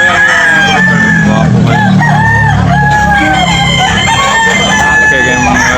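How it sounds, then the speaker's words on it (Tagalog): Fighting roosters at a cockfighting farm crow repeatedly in overlapping calls, loud and close, with clucking in between and a busy yard of many birds. "Kaya bininta niya Busing yung mga manok niya panabong mga kabakard."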